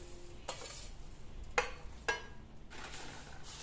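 Dry-roasted poha (flattened rice) being stirred with turmeric in a pan: quiet scraping and rustling with a few sharper scrapes of the spoon against the pan, no talking.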